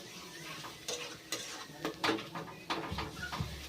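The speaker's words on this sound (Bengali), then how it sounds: "খুব ভালোভাবে মশলাটা মিশিয়ে দেব" A spoon scrapes and taps against a pan while ground turmeric and other powdered spices are stirred with a little water for a Bengali fish head muri ghonto, giving irregular close clinks over a faint low sizzle.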